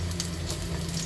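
Garlic sizzles in a little oil in a pan, a steady close frying crackle with faint stirring.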